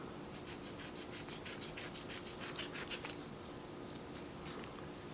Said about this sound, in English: Gotta sharpen my little paring knife.